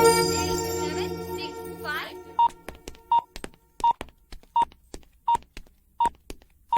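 A telephone in a Telugu mystery thriller film: a voice speaks briefly before a run of quick keypad tones, then evenly spaced ringing pulses repeat clearly at close range.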